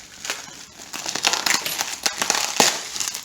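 Plastic packaging for a car's front-end parts rips and crinkles open in a workshop, a run of sharp close tearing and crackling bursts that grows busier after the first second, with no talk.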